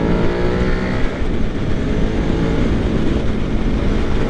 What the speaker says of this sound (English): it sounds really good when you get into the high RPMs. So I'm in third gear.